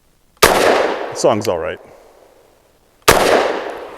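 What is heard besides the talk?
Walther PDP F Pro pistol gunshots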